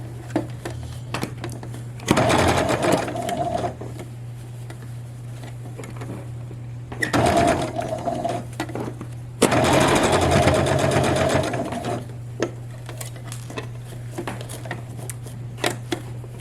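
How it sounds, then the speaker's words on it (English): A sewing machine stitches a seam while taking in a formal dress, with three loud bursts of rapid running separated by a steady low hum and quieter pauses. "Being careful to make sure you're not sewing through undesired layers that have bunched themselves up underneath your presser foot."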